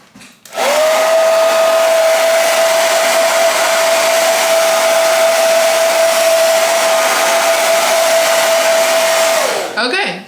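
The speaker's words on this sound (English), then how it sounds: "I'm gonna blow dry it so it can really adhere to the lace." A hair dryer whirs loud and close, blow drying the lace of a straight 24-inch wig for about nine seconds, with a steady high whine. It switches on and off abruptly.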